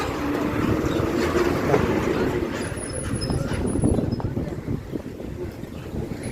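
The Mettupalayam-Ooty toy train runs on its mountain rails past Wellington through eucalyptus trees, a steady, rumbling clatter heard up close and blended with heavy wind buffeting the microphone.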